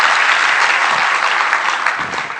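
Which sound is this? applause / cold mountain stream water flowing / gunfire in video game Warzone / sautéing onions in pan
applause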